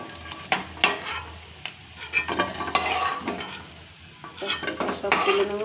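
Fritters (bora) frying in a pan, with a steady close sizzle under repeated sharp scrapes and clinks of a spatula or spoon against the metal as the pieces are stirred and lifted out.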